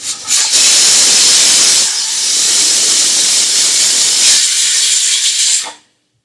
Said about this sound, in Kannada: ಒಂದು ವಿಷಲ್ ಆಗಿದೆ